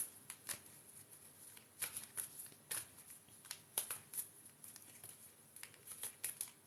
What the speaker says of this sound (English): let's give them a good old shuffle